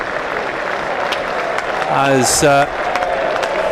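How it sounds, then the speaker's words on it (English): A cricket crowd at a floodlit South London ground applauds a diving fielding save, broad distant clapping running under a commentator who speaks briefly over it. "he'll get the applause from the crowd"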